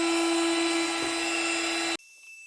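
A cordless heat gun that runs on DeWalt batteries whirs loudly and steadily with a high fan tone, then cuts off abruptly near the end, leaving a quieter residual hum.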